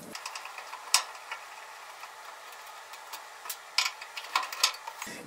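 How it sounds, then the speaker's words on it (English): Screws being backed out of a washing machine panel with a hand tool, a quiet series of small ticking, ratchet-like clicks with irregular spacing and no talking. "take these two screws out"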